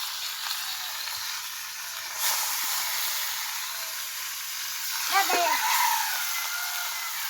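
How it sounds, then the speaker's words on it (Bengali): Rohu fish frying in hot oil in a small mini-kitchen setup, giving a steady, close sizzling hiss throughout, with a short tonal chirp-like sound rising briefly near the end. "মাছ ভাজি করবো, রুই মাছ।"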